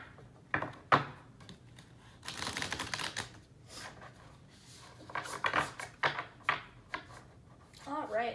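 Tarot cards riffle and flutter in several bursts of quick papery clicks, with soft handling noises and brief murmured talk in between.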